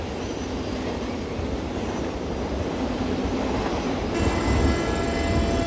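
Express train No. 168, bound for Bangkok and hauled by locomotive 4504, rounds a curve near Khlong Sai in Thailand with a loud, steady rumble and rail roar that swells slightly toward the end.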